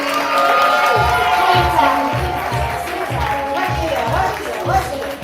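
A live audience cheers, whoops and claps loudly as a performer is called to the stage, with a steady rhythmic thumping beneath the crowd noise.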